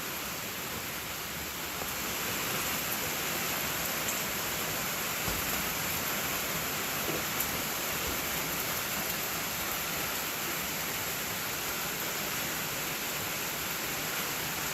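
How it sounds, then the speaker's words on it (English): Steady rain falls in the countryside, a dense, even hiss of drops that holds at the same level throughout with no voices. "And when it rains, it's even more relaxing."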